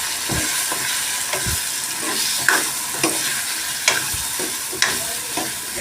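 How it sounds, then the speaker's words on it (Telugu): Pumpkin curry with chili powder stirred in a pan, a steady sizzle under repeated scraping strokes of a spoon against the metal, close and alone with no voices. "సో ఇవన్నీ దగ్గరికి కలుపుకోవాలి"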